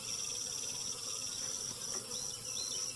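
Honeybees from a small, late-season caught swarm buzzing inside a nuc box, a steady faint drone with a few passing individual bees, and no voices.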